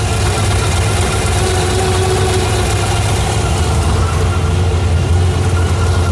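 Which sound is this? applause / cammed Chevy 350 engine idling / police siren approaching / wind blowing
cammed Chevy 350 engine idling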